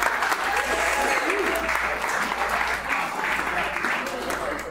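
Applause for the Sterlings at a rehearsal dinner, a dense, steady clatter of many clapping hands filling the room for several seconds, with some cheering voices mixed in.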